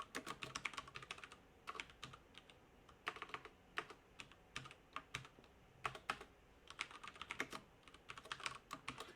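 Rapid keystrokes on a computer keyboard while code is typed, coming in quick bursts of clicks separated by short pauses, close and fairly quiet, with no talking.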